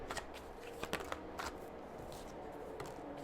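Tarot cards being shuffled by hand, a soft papery riffling with a few sharper slaps and flicks, faint and close, with no talking.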